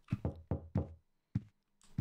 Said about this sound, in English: Who the fuck is banging on my door?